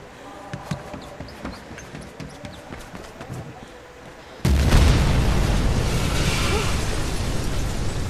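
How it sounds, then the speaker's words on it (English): In the video game Mirror's Edge Catalyst, a sudden loud explosion bursts in midway after a stretch of quieter clicks and taps, followed by a sustained rumbling roar to the end. "Big explosion over here."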